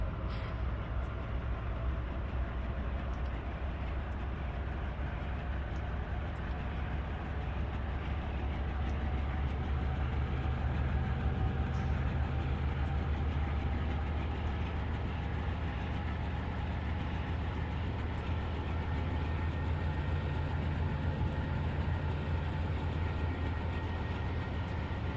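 A Dash 8 locomotive pulls a train during yard work between Miami and West Palm Beach. Its engine drones steadily with a low rumble and rail noise, loud and continuous throughout, with no talk.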